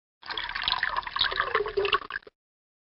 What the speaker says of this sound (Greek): Τώρα μπορείς να γεμίσεις το ποτιστήρι και να ποτίσεις τα λουλούδια.